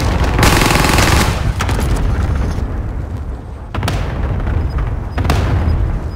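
Heavy automatic gunfire rages in a video game, dense and loud bursts sustained through most of the stretch with brief breaks, sharp onsets marking new volleys.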